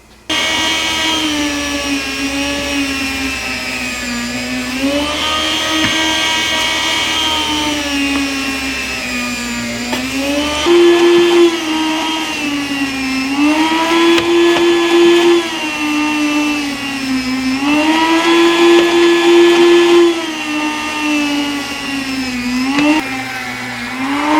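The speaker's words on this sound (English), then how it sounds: "I'm going to get going on the slicing and then the vacuum sealing." Homemade smoked bacon being sliced, likely on an electric meat slicer, giving a continuous loud motor whine that swells and dips in repeated cycles of a few seconds, with no talking.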